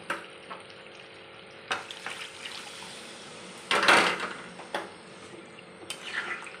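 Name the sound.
water poured into chicken curry in a pot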